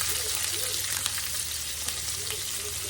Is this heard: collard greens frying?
yes